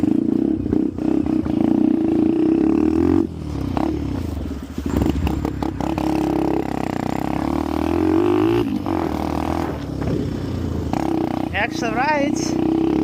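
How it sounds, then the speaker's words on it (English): A small motorcycle engine, one that has been sitting unused, runs close by with a steady low drone and some clattering and revving. People talk over it for much of the time. "I'm taking the small bike outside. We'll see if it still runs"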